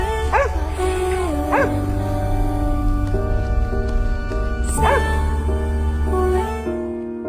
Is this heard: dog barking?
yes